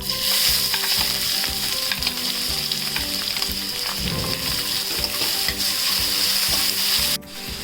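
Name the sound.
onions frying in a pan for vegetable upma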